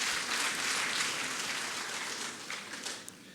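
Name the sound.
audience applauding the president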